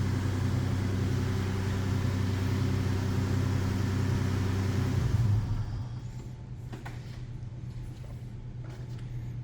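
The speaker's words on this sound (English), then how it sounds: "I'm going to go ahead and shut this vehicle off" A car engine idles steadily and loud with a low hum for about five seconds, then shuts off, leaving a quieter background with faint rustles.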